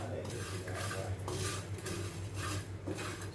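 Whole nutmeg is bruised before cooking for Padang rendang, with a few dull knocks and scraping taps spread irregularly over a kitchen background with a low steady hum.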